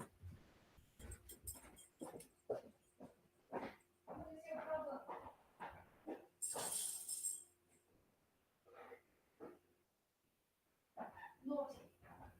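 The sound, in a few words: dog named Bentley in the room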